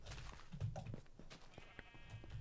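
Quiet sheep bleating in Minecraft, several short wavering calls over a faint background of game sounds.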